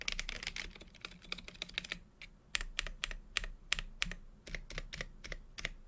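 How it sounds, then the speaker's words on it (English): Rapid keystrokes on a custom mechanical keyboard fitted with Akko keycaps, one stabilizer sounding a bit squishy; close, steady typing with a brief dense burst, then a short pause before more spaced clacks. "Yeah, it's a bit squishy sounding, that stabilizer."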